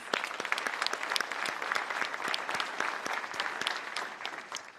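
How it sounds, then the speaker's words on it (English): Applause from an audience at a homeland security discussion, honoring department leaders seated in the front row; steady moderate clapping from a sizable crowd with individual sharp claps standing out throughout. "Let's give them a quick round of applause"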